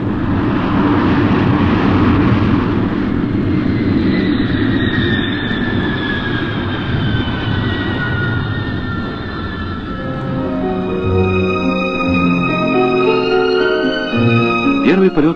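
A Yak-42 airliner on its first test flight roars loudly as it takes off, its jet engines a heavy sustained rumble with rising whine, then fading and shifting as the aircraft climbs away.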